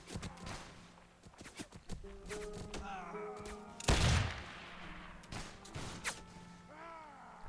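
Musket fire from a battle in Mount & Blade Warband, with scattered reports and one heavy volley crack mid-clip, plus thuds and faint footsteps around it, set against quiet background.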